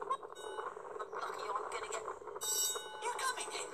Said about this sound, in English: The school bell went off